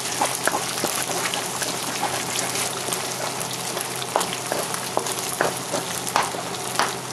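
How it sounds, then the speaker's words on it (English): Hot oil sizzles steadily in a pan as an egg is cracked in for pad thai, with a continuous spattering hiss broken by sharper pops and crackles, close and fairly loud, no voices. "And now you can break your egg."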